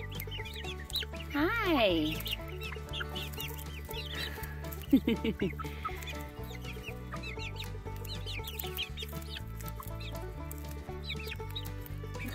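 Baby chicks clucking and peeping close by on a small homestead, a steady chatter of soft calls that runs through the whole stretch, with a person speaking to them now and then over the birds.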